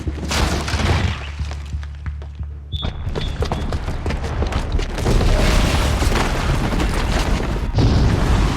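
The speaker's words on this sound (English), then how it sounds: "the booby trap on the bomb downstairs is gonna get set off" A booby-trapped bomb blowing up in the video game Horizon Zero Dawn, heavy booming blasts with shattering debris and a deep rumble, loud and sustained, surging again in the second half.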